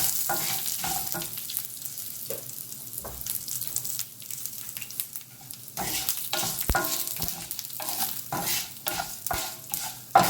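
Spices sizzling in hot oil as asafoetida and a pinch of turmeric are sautéd in a pan for a chickpea sundal seasoning, with steady frying hiss broken by repeated scraping stirs, close and moderately loud, no talk.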